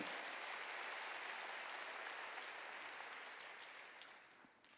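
A church congregation applauds during a Korean sermon, with a steady, full round of clapping that holds for several seconds and then tapers off to near silence at the end.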